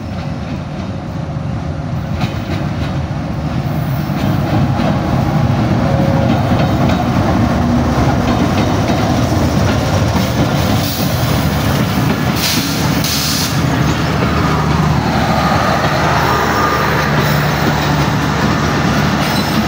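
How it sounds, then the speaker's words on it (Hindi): The Pakistan Express, a long passenger train of about 19 to 20 coaches, rushes past at speed without stopping, a loud, sustained roar of rolling wheels and rattling coaches with faint clicks, close by, and no voices. "अच्छी स्पीड के साथ ट्रेन आ रही है, स्लो नहीं है, काफ़ी अच्छी स्पीड है।"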